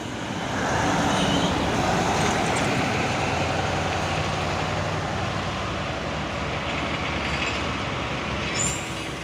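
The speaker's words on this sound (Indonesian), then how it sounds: "trailer Fuso intercooler ini ya, membawa kontainer melewati tanjakan Bukit Kodok di pagi hari" A Fuso intercooler trailer truck hauls a container up the Bukit Kodok hill in the morning, giving a steady, loud diesel drone and road roar that holds through the whole stretch without speech.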